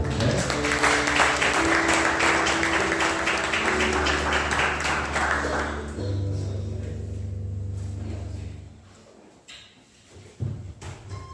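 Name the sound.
congregation applauding warmly to welcome the preacher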